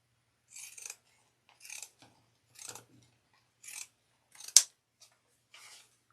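Pinking shears chop through handbag pocket fabric in about seven short, crisp crunching snips spaced roughly a second apart, close and fairly quiet, with one sharper click among them.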